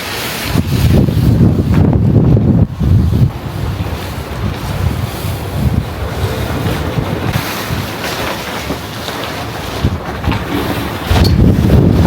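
Strong wind gusts buffet the microphone on an open rooftop campsite in hot Moroccan weather, a loud continuous rushing roar that swells and eases, with heavier blasts near the start and end and no talking.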